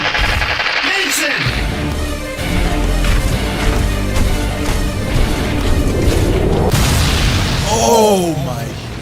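An explosion during a superhero video game boss battle, a loud sustained booming blast with rolling rumble and scattered crackling bursts, mixed with in-game voices speaking over it and a whooshing sweep near the end.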